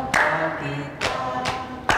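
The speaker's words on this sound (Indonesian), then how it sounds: "tepuk tangan dong" Children at a church children's service clap their hands in a few distinct bursts, sharp and close, with short gaps between them.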